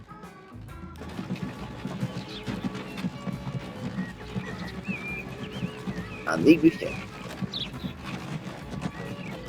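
Horses in the game Transport Fever 2 clop and whinny faintly beneath steady game ambience and music, with a brief louder burst midway while someone talks over it.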